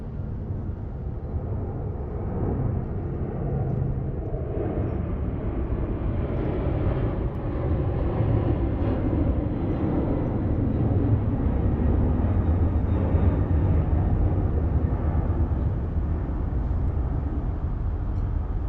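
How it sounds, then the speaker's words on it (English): A Delta Boeing 767-300ER airliner bound for Honolulu rolls down the runway at LAX, its engines a steady, loud, broadband roar that swells slightly and holds for the whole stretch without talk. "coming down the runway next, we have Delta Flight 480 going to Honolulu on a 767-300ER"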